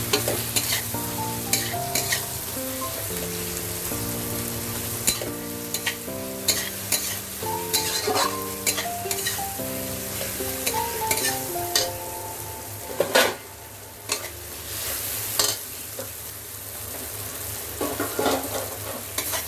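Masala frying in oil for Bengali chicken kosha, giving a steady close sizzle broken by repeated stirring scrapes, with background music playing throughout.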